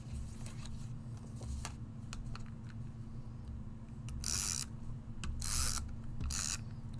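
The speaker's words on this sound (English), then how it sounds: "Using the Gina K tape runner, my favorite." A Gina K tape runner lays adhesive with soft ratcheting, rubbing mechanical clicks, close and quiet with no talking, plus a few brief louder bursts of rolling tape.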